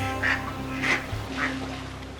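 A mother duck quacks three times at roughly even intervals, each call clear and fairly close against a steady low outdoor background along a restored creek.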